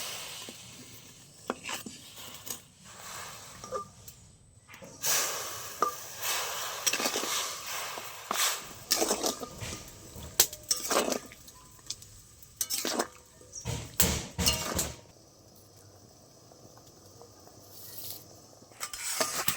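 Jaggery being stirred and melted in a pan for puffed-rice and flattened-rice moa, irregular scraping and tapping strokes of a spoon against the metal, close and fairly quiet, with scattered louder knocks.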